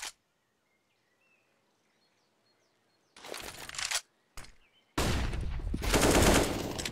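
Rapid automatic gunfire from the video game CS:GO on the Inferno map, with loud sustained sprays of shots after a silent start, briefly breaking off before resuming.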